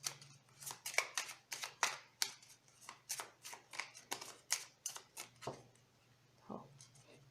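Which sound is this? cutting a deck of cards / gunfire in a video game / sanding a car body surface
cutting a deck of cards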